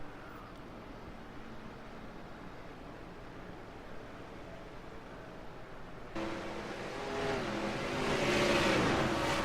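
Stock cars in an oval-track race at Daytona roll off at the start, with engine noise building and swelling louder in the second half as the field accelerates.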